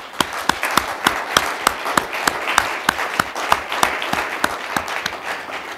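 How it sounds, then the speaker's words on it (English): An audience applauds at a public health campaign launch, a steady wash of clapping with sharp individual claps standing out, fairly close and sustained for several seconds without speech. "So can we get a round of applause for Barbara,"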